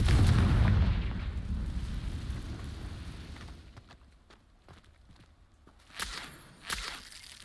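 Confringo blasting spell cast in the video game Hogwarts Legacy, a loud rumbling burst that fades over a few seconds, followed by scattered crackling debris and two sharper bangs near the end.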